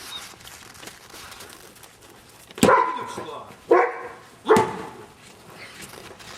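A guard dog in a yard barks three loud, sharp times at a stranger walking in, the barks spaced about a second apart over a low background murmur.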